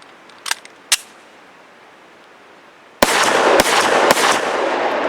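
Sharp reports from a Walther PPQ SC subcompact pistol: two faint distant shots, then a brief lull, then three loud close shots in quick succession, each trailing into ringing echo.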